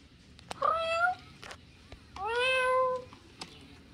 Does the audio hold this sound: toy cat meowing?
yes